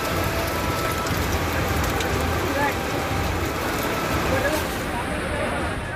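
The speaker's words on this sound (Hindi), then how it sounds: "उस वक्त भी वहां मूसलाधार बारिश जारी थी" Heavy downpour during a flood rescue in Mumbai, a dense steady hiss of rain lasting throughout, with speech present.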